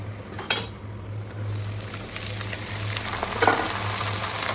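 Onions deep frying in oil with fenugreek and garlic, a steady loud sizzle filling the whole stretch, close by, with a low steady hum underneath and a few brief clinks of a utensil.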